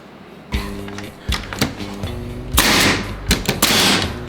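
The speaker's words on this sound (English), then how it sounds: "now that we know we can fit screws into our nail gun and that this works, let's shoot it into a bunch of stuff" A framing nailer loaded with screws fires into wood in a series of sharp, loud bangs, some single and some in quick pairs, each with a brief mechanical clatter and rattle.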